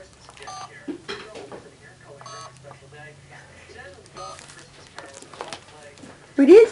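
A toy phone beeps and chirps in short electronic bursts in a room at a family Christmas gathering, with children and adults talking over it throughout and a louder voice near the end.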